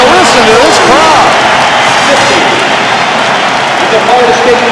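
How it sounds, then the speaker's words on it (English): A packed college basketball arena roars at halftime of a La Salle versus Florida State game in 1989, a dense, sustained wall of cheering and applause that stays loud throughout, with a commentator's voice riding on top. "listen to this crowd"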